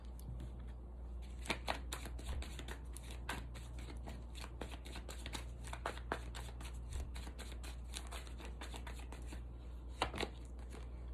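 Tarot cards are shuffled in quick, crisp riffles and flicks, a dense run of papery snaps close to the ear, with a faint hum beneath and no talking.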